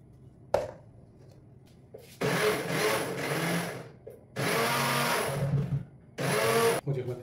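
An onion whirs in a kitchen blender being turned into juice for a fish soup, a short click then three loud sustained grinding bursts with brief pauses between, close and with no talk.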